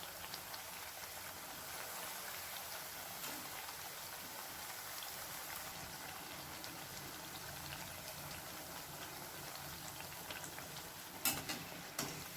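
Sweet wheat flour puri fries in hot oil with a dense, steady sizzle throughout, close and even, broken near the end by a couple of light clinks as it is turned.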